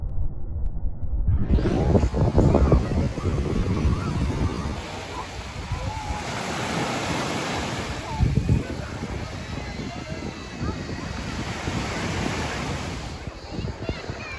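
Sea waves wash steadily onto the shore at Gümüldür on the İzmir–Kuşadası coast, a loud, continuous surf roar buffeted by wind noise on the microphone.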